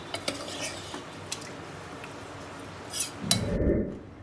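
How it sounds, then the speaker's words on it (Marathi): A spatula stirs and scrapes chicken being sautéed in oil in a pan, with a glass of water added. It makes light metallic clinks and scrapes over a faint background, ending in a louder rumbling stir. "आणखीन थोडंसं परतत राहायचं."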